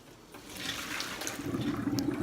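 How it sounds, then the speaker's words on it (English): Hot water from a cooking pot used for cauliflower is dumped into a sink, a steady splashing pour that builds and grows louder toward the end, heard close with no voices. "We'll dump this water out."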